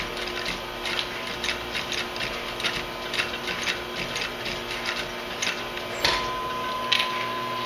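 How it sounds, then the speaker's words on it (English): Stitching on a leather choker produces a rhythmic series of light mechanical ticks and taps, about one every half second, over a steady background hum, close and moderate in level with no speech. "I'm going to do a couple of about 6 stitches"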